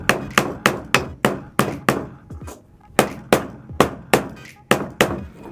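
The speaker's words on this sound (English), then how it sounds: "I did a horrible job nailing those in because they all folded over" Rapid hammer blows driving nails, about a dozen sharp close strikes in quick bursts with a short pause midway, ringing loudly with no talk over them.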